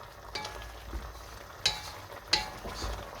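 A spoon stirs chicken and mushroom stew with finely chopped parsley in a pot, giving a few distinct scraping clinks over a soft, steady simmering sizzle.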